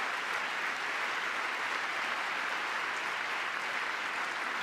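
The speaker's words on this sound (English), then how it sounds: "they're clapping" Steady applause from a crowd at a speech by President Trump, loud and continuous throughout with no breaks.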